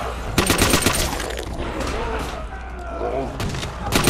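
Rapid weapon fire rattles out in Call of Duty Nazi Zombies, dense bursts of close gunshots over a steady low rumble, with a voice speaking during the shooting.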